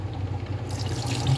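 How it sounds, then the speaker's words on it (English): A splash of red wine poured into a Salisbury steak mixture with spicy brown mustard gives a short, close liquid pour and trickle, steady and alone for just over a second. "Let's go splash of red wine."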